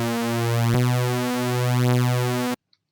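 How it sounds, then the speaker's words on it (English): Reese bass from detuned oscillators in FL Studio's 3xOsc, a thick sustained buzzing bass note with slow phasing wobble that cuts off abruptly, alone and loud. "We're close to the REESE bass sound."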